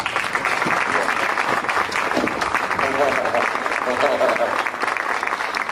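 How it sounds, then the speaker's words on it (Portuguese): A workshop audience breaks into sustained, dense applause that fills the room, with voices talking over the clapping throughout. "Por favor, uma salva de palmas"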